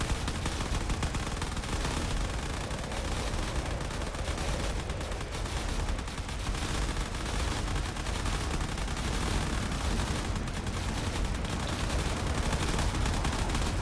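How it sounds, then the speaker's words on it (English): Dense, continuous barrage of turret and fighter fire in the space combat game Drone Wars, loud and unbroken throughout with crackling rapid shots layered over a heavy rumble. "There's a lot of shots coming in from all those fighters up above."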